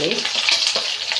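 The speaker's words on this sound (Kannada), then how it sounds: "ಸಾಸಿವೆ ಜೀರಿಗೆ ಹಾಕ್ತಾಯಿದ್ದೀನಿ" Mustard seeds, cumin and garlic sizzle steadily in hot frying oil for a drumstick fry, with a dense, crackling hiss close by and small pops and stirring scrapes through it.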